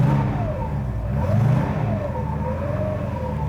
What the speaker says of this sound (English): I just want to let it warm up for a fraction.